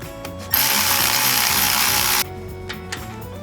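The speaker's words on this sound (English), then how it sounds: "Install our 3 hub retaining bolts." Hub retaining bolts on a Jeep Wrangler Dana 30 front axle being run in with a power tool: a steady whirring burst of about two seconds, preceded and followed by brief clicks and clanks of tools, close and alone.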